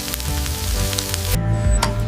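Beef burger patties searing on a dual-sided grill in a large burger factory, giving a steady, close sizzle with a continuous hissing texture.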